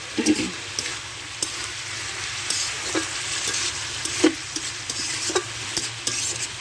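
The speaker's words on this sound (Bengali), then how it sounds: "মশলাটা দেওয়ার পরে আমি ভালো করে মিশিয়ে দেবো" Cabbage and fish curry stirred with cumin, pepper and garam masala in a hot pan: steady sizzling with repeated scrapes and knocks of the spoon against the pan, close and fairly loud, no voices.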